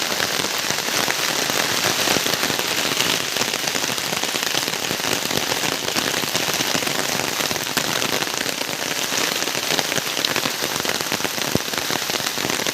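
Heavy monsoon rain pours down steadily and loudly in Konkan, a dense continuous hiss of drops drumming on surfaces with no voices.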